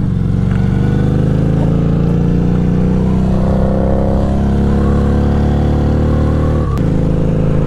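An FKM dual sport motorcycle on dual sport tires rides along a road, its engine droning loud and close throughout with a steady rumbling tone that shifts slightly as the rider changes speed, with no talking.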